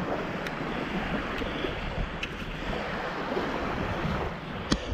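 Lake Superior surf washing steadily onto a sand beach, a continuous broadband roar of breaking waves with wind buffeting the microphone and no voices.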